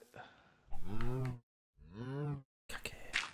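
A cow in the video game Minecraft moos twice in clear, close, drawn-out calls separated by a short pause, followed by a brief burst of other game noise.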